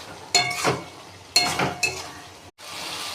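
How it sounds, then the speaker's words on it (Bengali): Hot water is poured into chicken curry frying with potatoes, bringing sharp bursts of hissing sizzle that swell and fade, with a few light metallic clinks of a spoon against the pan. "গরম জল দিয়ে দেবো।"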